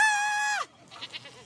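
A goat at an animal sanctuary gives one loud, drawn-out bleat close by. Only faint, scattered noises follow once it stops.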